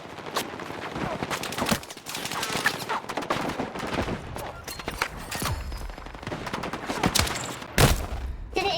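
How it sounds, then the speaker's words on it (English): Light machine gun fire in Battlefield 6, sharp shots in irregular bursts mixed with other gunfire and in-game noise, loud and close throughout. "are LMGs burst fire in this game?"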